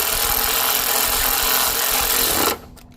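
A power tool whirs loudly and steadily while tightening bolts on the EFI voltage regulator of a Scag Cheetah II FX1000V mower, then cuts off abruptly near the end, leaving a quiet room.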